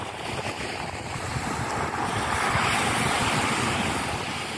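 Sea waves rolling onto the beach at L'Albufera in the calm morning, a steady broad wash of surf with some wind rumble on the microphone, continuous and fairly loud, no voices.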